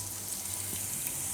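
Whole cumin seeds sizzle in hot oil in a pan, a soft steady frying hiss with faint crackle, close and even, with no talking.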